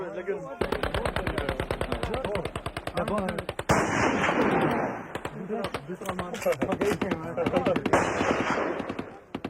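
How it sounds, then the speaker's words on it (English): Rapid bursts of automatic gunfire from Pathan tribesmen firing celebratory shots rattle loudly and close, long strings of shots broken by short pauses, with echoing clatter and shouting mixed in. "these days the tribesmen use their firearms the way we use fireworks"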